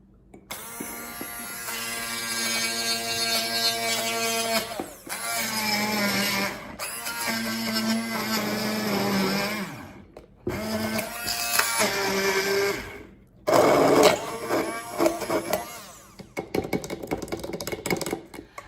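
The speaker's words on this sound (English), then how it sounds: "continue playing with this here immersion blender and my nettles and my hazelnuts and all the good stuff" An immersion blender purees nettles, hazelnuts, dill and lemon into pesto, a loud close motor whine with harmonic drone that surges and stops several times, changing pitch as it churns, with no talking.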